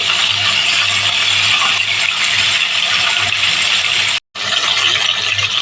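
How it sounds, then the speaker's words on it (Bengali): Marinated chicken sizzles in hot oil in a pan for a chicken curry with potato, a steady loud dense crackle that runs on without pause, cutting out briefly near the end before resuming. "তেল গরম হয়ে গিয়েছিল তাই ম্যারিনেট করা মাংস দিয়ে দিয়েছি মাংসটাকে সুন্দর করে ভেজে নেব"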